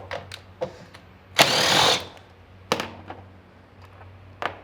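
A 10mm socket backs a bolt out of a vehicle kick panel area during cowl guard removal: scattered clicks and taps, then one loud half-second burst of ratcheting or spinning, followed by a few more sharp knocks.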